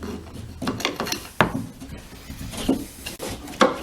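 A keyhole saw scrapes, rasps and knocks inside a cottage wall during demolition, irregular close scratching and thuds as the blade pokes around in the cavity.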